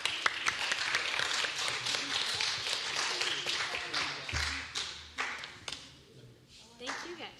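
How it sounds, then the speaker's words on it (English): A congregation at a Wednesday worship service giving a round of applause, moderately loud clapping that thins and fades toward the end, with some talking mixed in. "let's give them one more round of applause"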